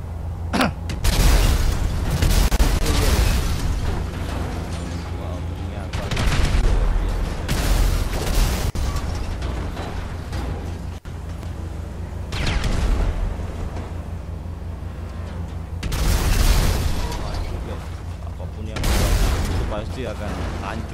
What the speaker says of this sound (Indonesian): Kira-kira mobil-mobilnya pada meledak ya,